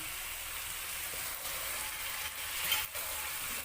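Masala with tomato sauce sautéing in a pan makes a close, even sizzle and crackle throughout, with faint stirring and no voices.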